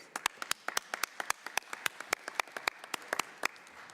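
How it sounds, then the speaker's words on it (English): Audience at a UN affairs standing committee session of an IPU assembly applauds the panelists with sparse, crisp individual claps in a quick steady rhythm, moderately quiet in a large room. "I think we will give them an applause"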